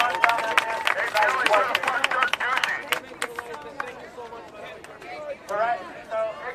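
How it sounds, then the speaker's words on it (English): A crowd outside an elections office in Phoenix claps in scattered bursts, close and uneven, fading and returning, with people talking and calling out over it. "Guys, give her a round of applause, please"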